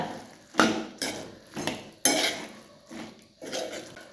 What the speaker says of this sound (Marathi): हे बघ पोरी, छान असं मस्त मिक्स करून घ्यायचंय भाजीला